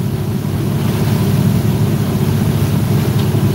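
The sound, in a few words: outboard motorboat engine running on one engine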